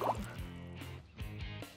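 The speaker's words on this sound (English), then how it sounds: "I could make a fizzy drink by just blowing bubbles in this water" Air blown through a straw into a glass of plain water, making a few close, quiet bubbling and gurgling bursts separated by short pauses.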